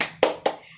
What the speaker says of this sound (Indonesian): kita tepuk tangan terlebih dahulu. Tepuk tangan semangat